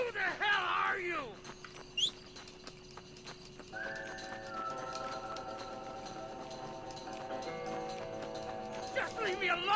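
Horse hooves clip-clop in the Red Dead Redemption video game, a steady trotting rhythm under sustained music tones, with a horse whinnying.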